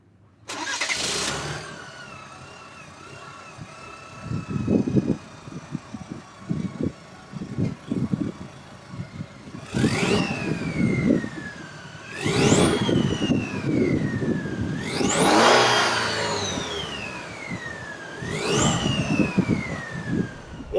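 A 2022 Chevrolet Silverado Custom pickup truck's non-V8 engine revs and accelerates repeatedly on the road, pitch climbing with each gear before dropping, with road and tire rumble from 20-inch wheels underneath throughout.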